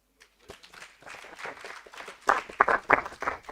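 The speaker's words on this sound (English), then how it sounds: "So let's clap for Kimone." Audience clapping at a mentorship program ceremony, a dense patter of hands building and growing louder over a few seconds, with no voices over it.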